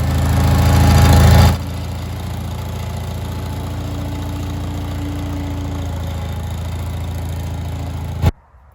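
A Bolens G14 garden tractor's small engine idles steadily and loudly for several seconds, with a heavier rumble at the start, then cuts off abruptly near the end.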